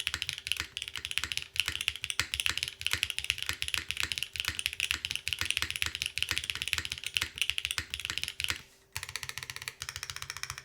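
Crisp, fast typing on The Seal, a full-size 100% top-mount mechanical keyboard, with dense, rapid, fairly loud clacks that run steadily and then pause briefly before resuming.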